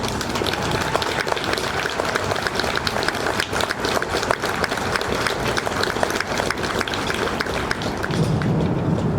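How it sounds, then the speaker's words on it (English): An audience at a military cadet assumption-of-command ceremony applauds the cadets and their new leaders, a loud, dense and continuous wash of clapping that holds steady throughout. "please give our cadets and their new leaders a big round of applause"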